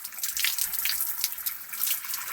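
A shower sprays water in a steady, close hiss with small splashing variations throughout, with no voices over it.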